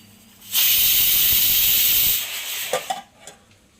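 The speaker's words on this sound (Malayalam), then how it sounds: "അപ്പോൾ നമ്മൾ കുടിക്കാനുള്ള വെള്ളമൊക്കെ തിളച്ചിട്ടുണ്ട്" Drinking water boiling on a gas stove in a home kitchen gives a loud, steady steam hiss for about a second and a half, then fades into softer bubbling and a few light clinks.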